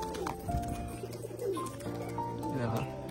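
Pigeons coo repeatedly in a low, throaty rhythm at a loft where a pair has laid eggs; the calls overlap, some near and some farther off, over steady background hum.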